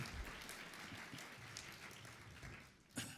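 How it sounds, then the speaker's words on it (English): Applause at a medical school Match Day gathering honours a former colleague: steady, faint clapping from many hands that carries on for a few seconds before tapering off. "let's give her a round of applause, please."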